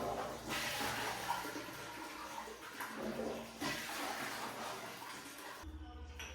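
Toilet flush with Harpic cleaner in the cistern: a loud, steady rush of water that runs for several seconds, then cuts off abruptly into a low hum.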